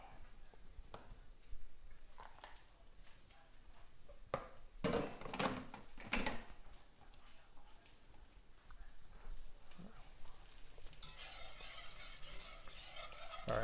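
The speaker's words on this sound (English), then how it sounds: "barbecue sauce is boiling" A low, continuous bubbling and spattering of barbecue sauce boiling in a pot, fairly quiet, with occasional clinks and knocks throughout.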